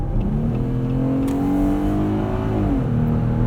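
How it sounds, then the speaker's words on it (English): A 2020 Jeep Gladiator Overland 4x4 truck cornering hard, its engine droning loudly and steadily throughout, with a rising whine under strain that may include tire squeal, close and continuous. "A lot of complaining from the tires"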